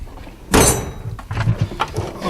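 A metal drawer in a workshop tool chest slides shut with a sharp rattling clatter, followed by lighter clinks and shuffling of tools nearby.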